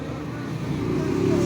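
A motorized tricycle on a road draws nearer, its engine rumbling steadily and growing slightly louder as it approaches.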